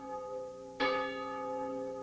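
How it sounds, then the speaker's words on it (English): Cathedral church bells ring with a bright, sustained tone, one strong strike joining an already ringing, resonant hum, steady and fairly loud with no voices. "At a cathedral, they began ringing the bells."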